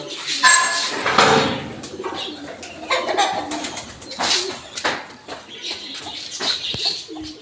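Pigeons coo repeatedly at close range, soft throaty calls with flutters and scattered noises between them.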